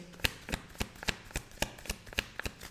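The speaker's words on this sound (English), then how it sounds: "we have been pulling more cards for the fire signs" Tarot cards being shuffled by hand, a steady series of crisp riffling snaps at a quick even rhythm, close and fairly quiet with no talking.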